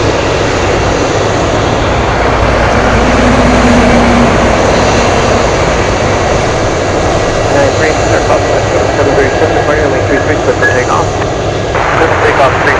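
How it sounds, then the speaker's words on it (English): Aircraft taxiing at Anchorage airport, heard as a loud, continuous engine roar and rumble that fills the whole stretch with little change. "Looks like everybody is taxiing in front of the National 74."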